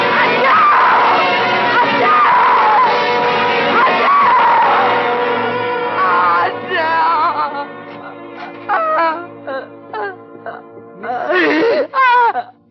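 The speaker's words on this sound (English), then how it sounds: "You mustn't scream like that." A woman in a radio drama lets out prolonged, wailing screams that break into sobbing, moaning cries and sharp shrieks, loud and close, and they grow more broken and intermittent toward the end.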